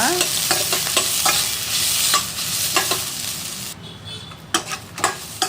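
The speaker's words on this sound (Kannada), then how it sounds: "ಇದು ಚೆನ್ನಾಗಿ ಫ್ರೈ ಮಾಡ್ಕೊಳ್ಳೋಣ" Dried red chillies, green chillies and coriander leaves frying for chicken pulao, stirred with repeated close, crisp scraping strokes over a steady sizzle, with a brief quieter gap before the stirring resumes.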